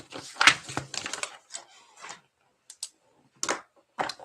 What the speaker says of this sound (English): We're going to start shuffling soon.